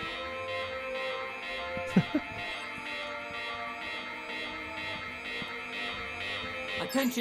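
A steady electronic alarm rings continuously in Beyond a Steel Sky's Union City, a sustained tonal drone with faint pulsing, joined by a couple of brief clunks and a short sound burst near the end, moderately quiet.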